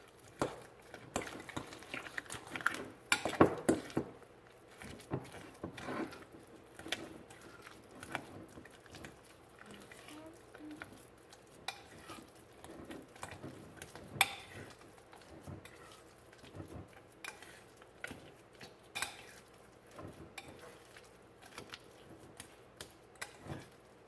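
Keto fathead pizza dough with egg and Italian seasoning is stirred by hand in a bowl, giving soft, irregular sticky taps and squelches that come and go quietly at close range, with faint room noise and no talk.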